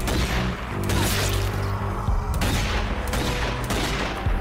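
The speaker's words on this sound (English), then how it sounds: "I'm trying to get some pistol shots." Pistol shots ring out in the zombie shooter Zombie Army 4, a loud, dense run of sharp cracks and impacts layered over game noise throughout.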